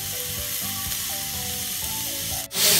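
Meat sizzles and fries in a pan with no oil, a steady close hiss that stays constant throughout, with a brief clatter near the end.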